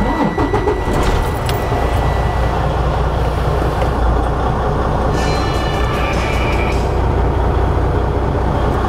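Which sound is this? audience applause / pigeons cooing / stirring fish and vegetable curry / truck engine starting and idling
truck engine starting and idling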